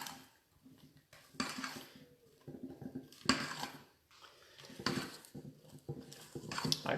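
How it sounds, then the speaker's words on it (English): Blueberries being stirred into a blueberry lime drizzle cake batter in a bowl, giving repeated soft scraping and clattering strokes of a utensil against the bowl, close and moderately loud, with uneven pauses between bursts. "we're going to add sort of 2/3 of our blueberries into the bowl there, and we're going to mix them all around"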